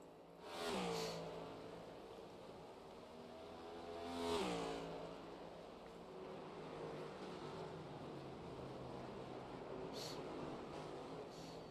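NASCAR race car engines in a racing video game, with cars roaring past in two distinct rising-then-falling revving passes, followed by a steady engine drone and a lighter third whoosh near the end.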